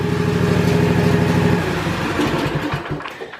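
A small engine held at wide open throttle while its charging output is tested, a loud steady drone that drops in pitch partway through as the revs fall away.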